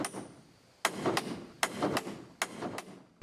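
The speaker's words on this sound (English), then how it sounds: "I'm using a puny little ball-peen hammer for this job. I want to tap on that yoke housing" Light ball-peen hammer taps on a metal universal joint yoke housing, five crisp knocks spaced unevenly over a few seconds, each with a short ringing decay, close and moderately loud.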